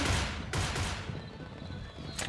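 Bursts of rapid gunfire in the video game Pixel Gun 3D crackle through a dense, noisy mix, with a sharp shot near the start and another near the end.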